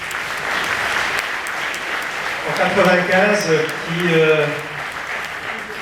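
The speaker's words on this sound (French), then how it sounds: "je crois que vous pouvez l'applaudir" An audience claps for a man named Richard being introduced at a presentation, with a steady wash of applause running underneath and a voice speaking over it.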